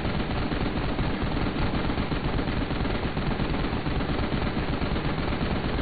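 Rapid, continuous gunfire in the Final Fantasy XV Episode Prompto boss fight against a Magitek Ape and Magitek Worm, a dense, loud, unbroken stream of shots with no pauses.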